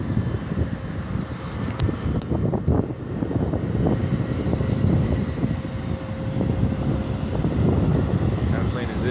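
An Airbus A320 airliner at an airport, a loud continuous jet engine roar and rushing noise that stays steady throughout, with a faint tonal whine and brief voices in the background.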